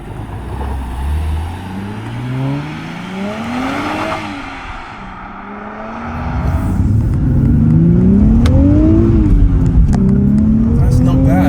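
A 2023 Nissan Z accelerating hard with rising engine notes that climb, drop at gear shifts and climb again. The engine grows louder and fuller through the second half and is heard from inside the car.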